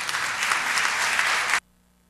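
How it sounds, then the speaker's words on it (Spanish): Audience at a panel discussion with journalists applauds, a dense, steady crowd clapping for about a second and a half that cuts off abruptly into quiet room tone. "Un aplauso para ellos, por favor."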